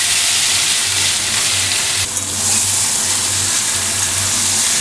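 Chicken pieces frying in hot oil in a pan with whole spices, a steady loud sizzling hiss that flares brighter partway through, continuous with no talking.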